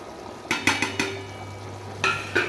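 Paneer curry with kasuri methi stirred in a pan, a cluster of quick metal spoon clinks and scrapes against the pan followed by two more after a pause, over a low simmering hiss and a steady hum, no talking.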